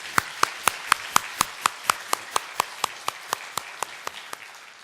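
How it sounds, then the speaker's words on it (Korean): A church congregation claps in encouragement, a steady rhythmic series of about eighteen sharp, evenly spaced claps that gradually softens toward the end. "박수로 한번 격려해 주세요"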